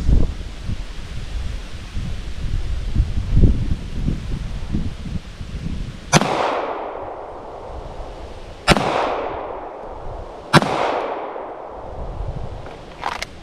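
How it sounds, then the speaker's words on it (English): A pistol with a red dot sight fires three loud shots at the middle target from the 10 yard line outdoors, spaced a couple of seconds apart, each with a sharp crack and a decaying echo over gusty wind. "I want to shoot the middle target. Three shots."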